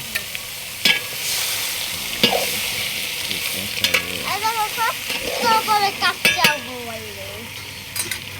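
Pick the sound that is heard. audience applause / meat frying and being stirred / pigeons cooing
meat frying and being stirred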